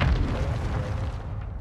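Heavy booming cluster-strike explosions from Call of Duty: Modern Warfare II roll continuously for under two seconds, a dense low rumble of overlapping blasts that stays loud throughout.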